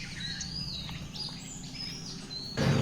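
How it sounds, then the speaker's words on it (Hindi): Birds chirping and calling in several high, overlapping tweets over a steady low rumble in the morning near Kasar Devi, Almora, Uttarakhand, with a louder burst of noise right at the end. "सिर्फ चिड़ियों की आवाज़ें सुनाई दे रही हैं हर तरफ"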